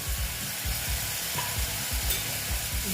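Spice paste being stirred and mixed in a frying pan, giving a steady low scraping, rhythmic stirring strokes over a constant soft sizzle, close up with no talking.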